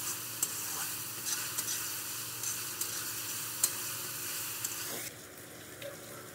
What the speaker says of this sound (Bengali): ভাজি করে নেব।